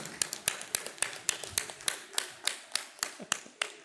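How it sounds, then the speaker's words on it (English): Conference audience applause heard as sparse, evenly spaced sharp claps, roughly three per second and fairly faint, like only a few people clapping in a large room. "give a big round of applause"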